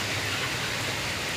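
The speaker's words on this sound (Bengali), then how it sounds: "প্রচুর বৃষ্টি হতেছে আজকে, সারাদিন ধরে বৃষ্টি।" Heavy, all-day rain at a poultry farm makes a steady, dense hiss with no breaks, moderately loud and with no voices.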